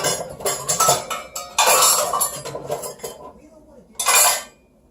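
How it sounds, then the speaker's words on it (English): Meatloaf ingredients, including ketchup, mixed together in a bowl, giving bursts of clinking, scraping utensil-on-bowl sounds in irregular clusters, close and fairly loud, with a brief pause before a final louder burst. "Alright, mix this all up together."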